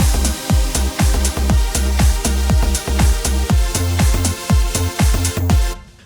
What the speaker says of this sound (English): a very simple sort of 4x4 house beat that sounds like this